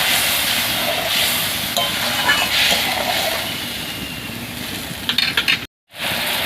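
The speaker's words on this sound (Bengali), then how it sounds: "একটু ফুটিয়ে নেব।" Fish kaliya made with cut rohu (katapona) pieces simmers in water in a pan, giving a steady bubbling hiss that runs throughout, with a brief clatter and a short dropout near the end.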